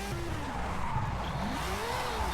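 A 2002 Mazda RX-7 Spirit R Type-A spinning through a 360 drift in Forza Horizon 5, a sustained rising and falling tire squeal over a droning engine, close and continuous throughout.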